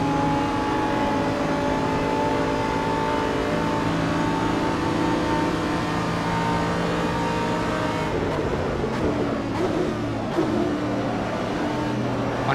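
Racing car engine in the video game Assetto Corsa, a sustained high-pitched drone holding steady, then shifting and wavering in pitch toward the end as revs change, loud and continuous with no voices.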